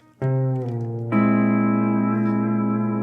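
A sustained, gliding C6 pedal steel guitar chord swells in, then a second brighter chord rings out and holds with a smooth, echoing sustain.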